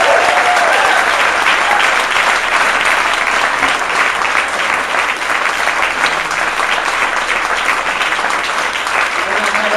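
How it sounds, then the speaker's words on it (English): A theater audience at a film screening Q&A breaks into loud, sustained applause that fills the room evenly for the whole stretch, dense and steady without pause. "Could you guys give a big round of applause to all of you?"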